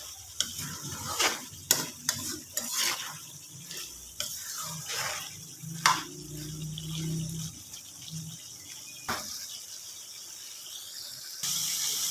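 Broth is poured into a frying pan and stirred, with soft sizzling, liquid splashes and scattered utensil scrapes and clinks, fairly quiet and close, with no talking.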